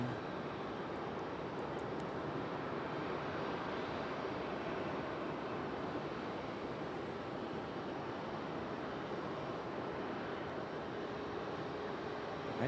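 Airliner in toothpaste livery touching down at Raleigh-Durham airport, a steady broadband jet roar that holds evenly loud throughout, with no talking.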